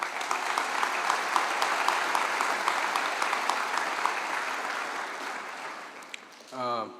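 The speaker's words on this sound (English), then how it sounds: "So give yourselves a round of applause." A high school graduation audience claps steadily in a dense, sustained round of applause that fades slightly toward the end, followed by a brief voice.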